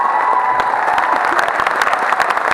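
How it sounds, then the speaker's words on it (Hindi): Dense clapping from an audience at a teachers' meet-up in Patna, a loud, sustained, even roar of many hands close by with faint crowd murmur underneath. "प्लीज एक बार जबरदस्त तालियां।"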